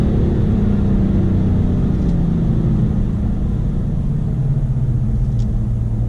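A BMW M3 F80 sport sedan pulls hard on a cold day, its engine a loud, steady, low rumbling drone that continues for several seconds with no talk over it.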